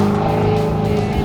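Liberty Walk Ferrari F430 Spider engine roars close and loud, a dense, steady, rasping drone that holds level throughout without a pause.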